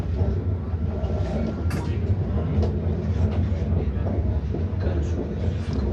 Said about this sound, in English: Double decker train, that one is.